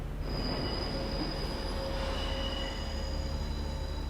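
A train in an anime episode, with steady rolling rumble under a long high metallic wheel squeal, continuous and fairly loud, with no voices.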